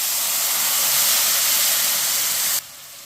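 A bowl of water poured into hot roasted semolina in a pan while making suji halwa, a loud, steady steam hiss and sizzle that holds for a few seconds before dropping off sharply.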